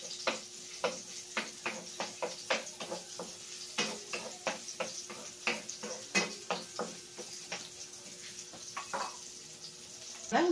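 Garlic frying in oil in a pan for a Filipino escabeche of tuna, a low steady sizzle with repeated rhythmic clicks and scrapes of a utensil stirring, close and fairly quiet.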